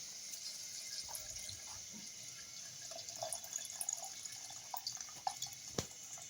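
Milk poured into a blender for a banana milkshake, a soft continuous liquid trickle with small splashes growing slightly busier toward the end, close and fairly quiet, no voice.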